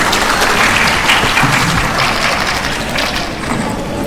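A large audience at a Korean-language speech contest for foreign contestants bursts into loud, sustained applause welcoming a student speaker, a dense wash of clapping that holds steady throughout.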